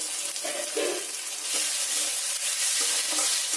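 Chopped tomato sizzles and fries in a pan with already-browned garlic and onion for a homemade biryani, a steady close broadband hiss with a few soft stirring scrapes and no talk.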